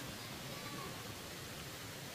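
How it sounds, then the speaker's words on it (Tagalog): A steady, faint wash of flowing water, like a shallow stream running continuously with no other sounds. "Agos ng tubig"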